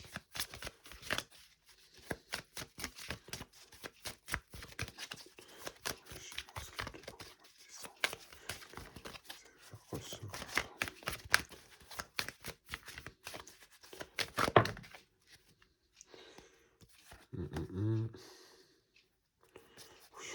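Tarot cards shuffled by hand up close, a long rapid run of riffling, flicking card snaps in quick irregular rhythm, then a pause with a few soft handling sounds, under quiet intermittent talk.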